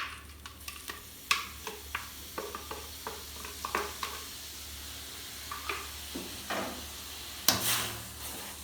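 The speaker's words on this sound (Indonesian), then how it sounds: "Diaduk-aduk terus sampai ampasnya mengental sehingga menyerupai selai." A utensil stirs blended rosella flower pulp cooking down into jam in a wok, giving soft scraping strokes and irregular clicks over a faint steady sizzle, quiet and close with no voices.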